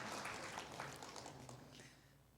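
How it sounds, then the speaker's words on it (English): A church congregation applauds during a Sunday worship service, a steady spread of clapping from many hands filling the room at moderate level, with no one speaking over it. "I came back to applause"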